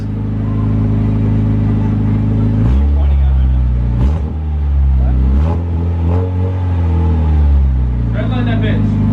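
A Mazda Miata engine fitted with a new custom exhaust idles loudly up close, then gets several light blips of the throttle that rise and fall in pitch, with people talking over it.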